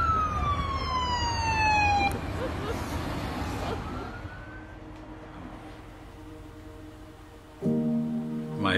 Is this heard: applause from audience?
no